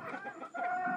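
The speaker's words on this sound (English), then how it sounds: "You can see my roosters fighting with each other." Close, agitated clucking from fighting Deathlayer roosters, a rapid series of throaty calls running together over about a second.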